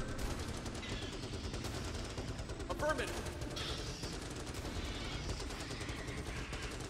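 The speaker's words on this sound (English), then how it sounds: "Even the snipers are still shooting." Sustained gunfire from turrets and snipers in the Starship Troopers: Terran Command strategy game rattles continuously as a dense, steady battle din, with rapid overlapping shots and bursts throughout.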